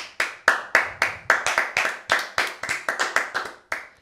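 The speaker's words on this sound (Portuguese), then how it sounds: "Aos 37 minutos vamos bater palmas" Several people in a studio show clap hands in a steady, deliberate rhythm, about a dozen sharp, close, slightly echoing claps evenly spaced with no talking.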